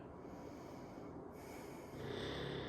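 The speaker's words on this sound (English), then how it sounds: "His snores are right on cue." A pet dog snores in a quiet indoor room during a relaxed hip-stretching session, giving soft steady snorting breaths that run through the whole stretch and grow slightly louder near the end.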